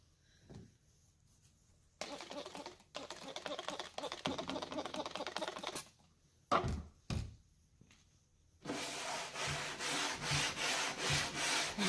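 Sandpaper rubbed by hand across painted wooden furniture being wet-sanded and distressed, in steady scratchy back-and-forth bursts separated by short pauses, close and moderately loud with no talking.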